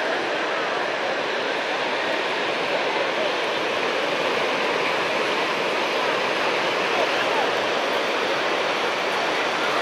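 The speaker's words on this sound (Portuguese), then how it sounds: "O mar bastante agitado" Rough sea waves at a beach in Cabo Frio after light rain, giving a continuous, loud, roaring wash of surf that stays steady throughout.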